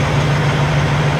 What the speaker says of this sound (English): this guy's got his truck idling